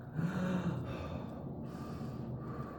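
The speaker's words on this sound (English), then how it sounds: "Okay, I'll try a few deeper breaths then." A nervous person takes a few slow, deep breaths, each inhale and exhale audible as soft, close airy rushes with a steady rhythm.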